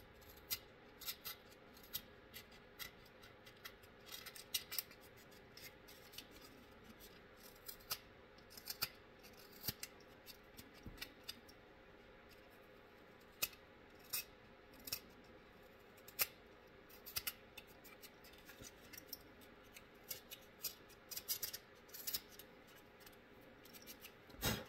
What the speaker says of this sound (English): we're going to need to take an X-Acto and clean all these edges up